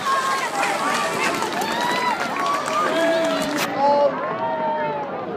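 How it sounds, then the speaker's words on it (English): A crowd at the Herne Bay Christmas lights switch-on gives steady applause and cheering, heard under someone speaking over a microphone and a mix of chatter and music. "Ladies and gentlemen, a big round of applause."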